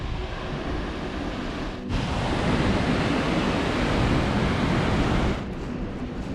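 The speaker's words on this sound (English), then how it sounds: "We're getting to the waterfall." The steady roar of the Krimml Waterfall in Austria, at 380 meters the highest waterfall in the country, forms a dense, loud wash of rushing water that briefly dips and then continues unbroken, with no voices.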